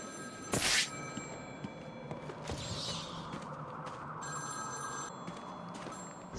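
A telephone rings in the Batman: Arkham City video game, a bright trilling bell burst followed by sustained ringing tones over a steady background hum, with no voices.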